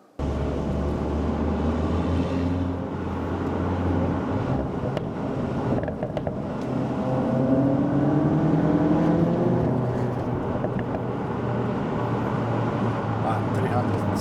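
Cupra Formentor ABT, tuned to 370 horsepower and switched into Cupra mode, drives through a village with its engine rising and falling in pitch under steady road and wind rumble, while someone talks over it.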